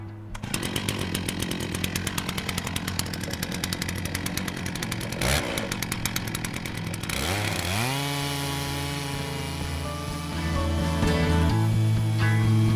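A Logosol chainsaw mill ripping a felled log into boards: a loud, continuous two-stroke chainsaw whine runs throughout, its pitch sweeping upward near the middle as the engine revs and then holding a steady, strained note through the cut.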